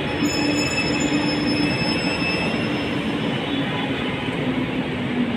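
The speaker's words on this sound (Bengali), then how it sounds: "দেখুন উপরতলা দিয়ে যাচ্ছে ট্রেন, আওয়াজ শোনা যাচ্ছে" A train passes on the upper level of a multi-level station, heard from the floor below as a loud, continuous rumble with metallic wheel squeal that eases slightly toward the end.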